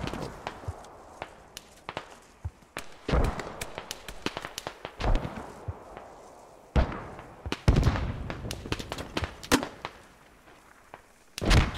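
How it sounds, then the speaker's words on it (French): Grenade blasts and scattered gunfire in the squad-based military shooter Squad, heard as sharp broadband bursts with a few heavy booms around the middle and later, plus smaller impacts and steps in between. "Grenade!"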